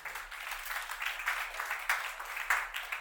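A conference audience applauds steadily, a soft, continuous patter of many hands clapping at some distance, with no voices.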